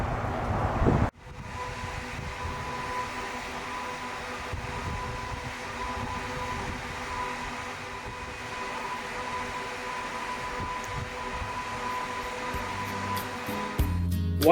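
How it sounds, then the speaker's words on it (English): A CNC stone milling machine carving a headstone gives a steady mechanical whine and hum with a constant drone. It starts after an abrupt change near the beginning and continues alone at moderate level. "It enables you to carve both stone and wood with a simple change of a cutter."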